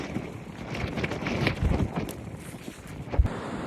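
Wind buffeting the microphone at a Cornwall beach near Padstow on a blustery March day, gusty low rumbles rising and falling with a distant wash of sea.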